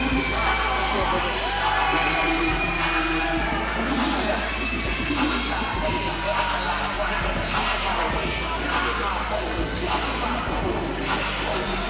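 A crowd cheers and whoops at a youth combat-sports championship as a fighter makes his entrance, a loud steady roar of voices with scattered shouts over a continuous low bass thump, likely entrance music, lasting throughout.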